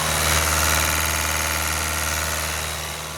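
Diesel car engine running during chemical cleaning of its diesel particulate filter, a loud, steady close engine drone with a constant hum that eases slightly toward the end.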